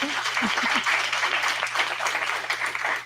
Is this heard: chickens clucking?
no